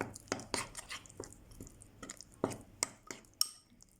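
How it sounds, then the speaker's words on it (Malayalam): Green masala mixed by hand with coconut oil and lime juice for butterfly grilled fish. Close, irregular wet taps, clicks and squishy scrapes, with no talking. "ഇനി നമുക്കിതെല്ലാം കൂടെ നന്നായിട്ടൊന്ന് മിക്സ് ചെയ്യാം"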